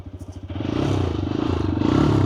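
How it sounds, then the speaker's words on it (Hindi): TVS Raider motorcycle engine cranks with a few quick chugs, then catches and settles into a steady, pulsing idle close by, with no talk. "अब हम लोग स्टार्ट करते हैं TVS की रेडर को।"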